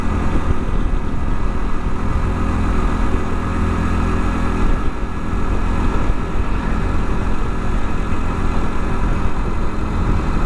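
A Honda Trail 125 (CT125) motorcycle engine runs while towing, giving a steady, loud mechanical drone with a low rumbling undertone that holds without a break.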